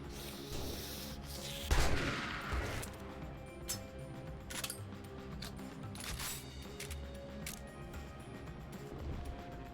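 A shotgun firing in the 7 Days to Die video game, with a loud blast early followed by several sharper shots spaced across the rest of the stretch over a busy, noisy background.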